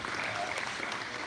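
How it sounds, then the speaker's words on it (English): Faint round of applause from attendees at a general council meeting, quiet, steady clapping heard from a distance in a large room. "give yourself a round of applause"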